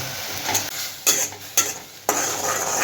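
A steady sizzle from a hot pan of veg Manchurian sauce thickening with cornflour slurry, with a few sharp scraping strokes of stirring, close and fairly loud, no voices.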